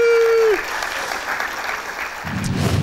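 Studio audience applause on the Kick Andy talk show, a steady wash of clapping that follows a held musical tone, with a low rumble rising near the end.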